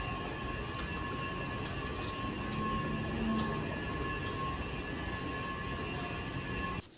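A Washington DC Metro subway train riding along, with a steady loud rumble and rolling roar, faint rhythmic track clicks and a high whine that hold constant for the whole stretch, no voices.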